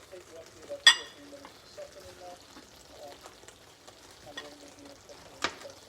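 Green peppers and spring onions fry in a pan with a soft, steady sizzle, broken by a couple of sharp utensil clinks and stirring sounds, quiet and close.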